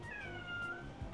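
A cat gives a single drawn-out meow that glides downward in pitch, heard close over a low background murmur.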